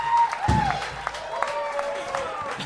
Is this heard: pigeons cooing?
no